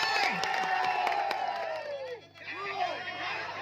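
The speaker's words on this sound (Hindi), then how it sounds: "जो चाहते हैं कि मोहनपुर को जीते हुए एक बार जोरदार ताली हो जाए मोहनपुर के लिए" Spectators at an outdoor volleyball match between Mohanpur and Maiharpur cheer and shout loudly, a crowd roar with rising whoops and clapping, while a commentator's voice runs over it.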